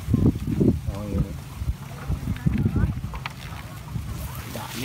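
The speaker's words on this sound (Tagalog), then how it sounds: "lumakas na yung hangin." Gusty wind buffeting the microphone in low, rumbling bursts, with voices talking over it outdoors near water.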